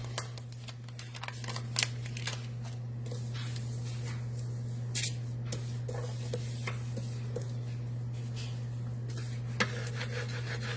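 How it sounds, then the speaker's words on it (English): A squeegee drags across a multi-layer screen print with soft, repeated scraping strokes and occasional sharper scuffs, all over a constant low electrical hum. "Again, just squeegee the crap out of it."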